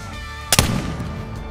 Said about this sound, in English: Let's see if we can take him with the muzzle loader.